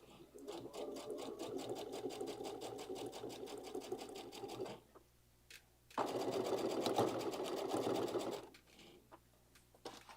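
Sewing machine stitching binding onto a bag, going back over a seam: a steady rapid mechanical whir that runs, pauses near the midpoint, then resumes loudly before trailing off, close up.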